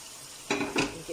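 A spoon stirs mutton pieces coated in curry powder, jeera and turmeric in a pot, two quick scraping, sizzling strokes and a faint third, close and alone after a quiet start.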